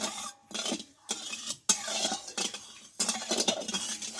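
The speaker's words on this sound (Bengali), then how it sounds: "দিয়ে একটু ভালোভাবে খুন্তি দিয়ে নাড়িয়ে নেবো" Homemade sweet chilli sauce is stirred with a spatula in a pan, producing bursts of close scraping and light clinking separated by short pauses, with no talking.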